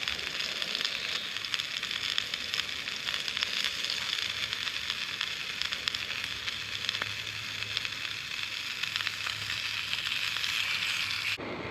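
Cevapi sausages sizzle steadily in a hot pan on a small camping stove, a constant close crackling hiss that continues without a break for the whole stretch.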